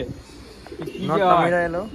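Black pigeons at home give a drawn-out, throaty coo that swells and fades in the second half, close and clear, with a person talking nearby.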